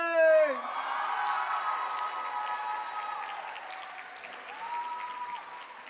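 At a high school drama awards night, an audience applauds and cheers for nominees and winners, a dense steady wave of clapping and whoops that follows a brief tonal sound at the start.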